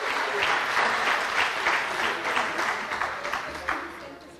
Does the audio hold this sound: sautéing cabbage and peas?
no